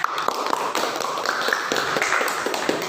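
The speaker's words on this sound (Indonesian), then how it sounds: "Kita berikan aplaus tepuk tangan." Middle school students in a classroom clap their hands together, a fairly close, uneven patter of claps with a faint tone running underneath, no talk over it.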